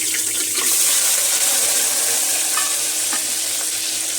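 Brinjals fry in hot oil with mustard seeds, giving a steady close sizzle with a few faint scraping stirs and no voices.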